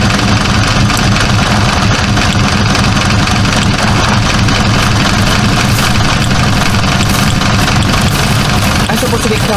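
A jeep engine running in a dinosaur video game at a campsite: a loud, continuous rumbling drone with vibration, steady throughout.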